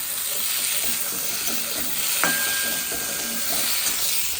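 Fish frying in a pan with poppy seed paste and green chili paste, a steady hiss and sizzle that continues close by without letup, with a brief faint tonal ring partway through.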